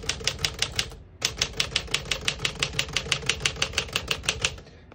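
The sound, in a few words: Smith-Corona Silent-Super portable typewriter typing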